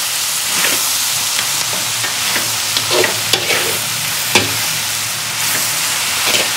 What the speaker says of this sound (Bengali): দেখো এরপরে খুব ভালো করে নেড়ে দিচ্ছি।